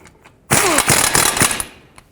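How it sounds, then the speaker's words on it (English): A ratchet snugs new ball joint nuts with a 19mm socket on a 2001-06 Toyota Camry. It gives a loud, close burst of rapid mechanical clicking that lasts about a second. "The new nuts are a 19mm socket. Snug those up."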